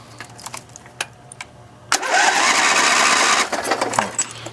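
The cold engine of a Red Rocket racing tractor catches after faint clicks and runs loud for about a second and a half under added throttle, then drops back to quieter knocks.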